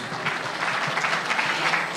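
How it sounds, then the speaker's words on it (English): Audience applause at a government public meeting in Mombasa, steady dense clapping from many hands throughout, moderately loud with no voice on top. "Another round of applause for Mheshimiwa Governor"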